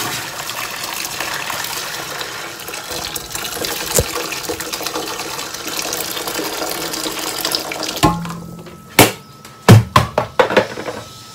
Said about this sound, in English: I'll be adding my boiled water inside the